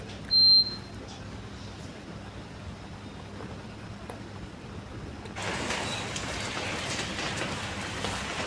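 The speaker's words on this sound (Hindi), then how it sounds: "तो मैंने ये बारिश का एक क्लिप ले लिया ताकि आपके साथ भी शेयर करूं" Steady rain falls outside in a broad hiss, starting faint under a brief beep and low hum, then swelling into a heavier, louder downpour for the remaining seconds.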